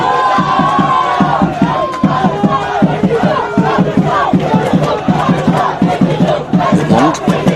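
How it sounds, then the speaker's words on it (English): Football supporters at a Gibraltar Rock Cup quarter-final, Manchester 1962 FC v St. Joseph's, keep up loud continuous chanting and cheering over a steady rhythmic drum beat throughout. "the young 62 supporters who haven't stopped cheering their side on for the entirety of this game this afternoon, banging the drums, supporting their team"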